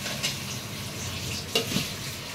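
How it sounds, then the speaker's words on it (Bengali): A Bangladeshi fish curry bubbles and sizzles in a pot while it is stirred. Two brief metallic clinks of the utensil against the pot stand out from the frying. "এখন আমি একটু ঘুরাই দিব এটা।"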